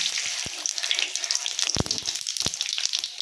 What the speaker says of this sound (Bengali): ফোড়নে দিয়ে দিচ্ছি জিরে তেজপাতা